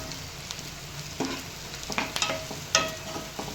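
Masala sautéing in a pan for dhaba-style green peas curry, a steady soft sizzle with a few louder stirring scrapes and clinks, close and alone without talk.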